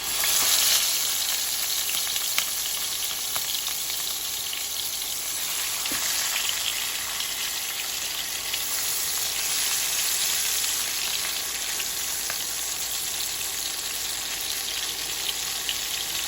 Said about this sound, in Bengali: এরপরে আমি হালকা করে মাছটা দিয়ে দেবো, তাহলে আমার গায়ে কিন্তু তেল ছিটানোর ভয়টা থাকবে না।